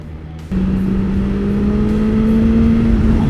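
A 2020 BMW S1000XR motorcycle engine picks up sharply after a short idle, then holds a loud, rising steady drone as it accelerates, close and clear with no talking.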